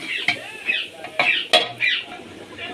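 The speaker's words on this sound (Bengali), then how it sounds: "এবার আমি খিচুড়ির ঢাকাটা খুলে নেব।" A metal lid lifted off a khichuri pot and handled, several sharp clanks and scrapes of metal spaced irregularly, close and fairly loud over a faint background sizzle.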